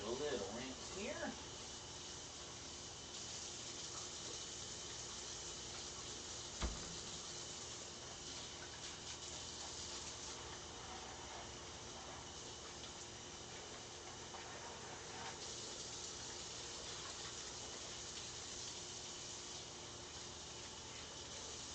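Tap water runs steadily over a raw steak being rinsed before marinating, a continuous broadband hiss that stays fairly even throughout with one brief knock partway through.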